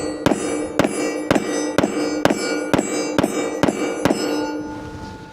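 A Daniel Defense H9 pistol fires a magazine in rapid succession: nine sharp, loud reports at a steady pace of about two per second, each followed by a brief ring, then the shooting stops and only faint background noise remains.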